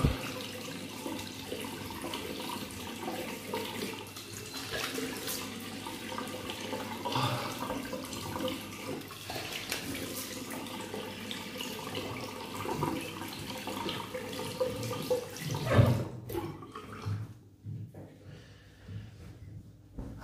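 A tap runs in a sink while a man rinses his face after shaving, a steady faint trickle broken by splashing, hand scrubbing and a snort near the end before the water stops.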